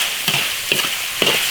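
Soft-shell turtle and chicken wings stir-frying in a wok: a steady close hiss of frying oil, broken by three scraping stir strokes about half a second apart.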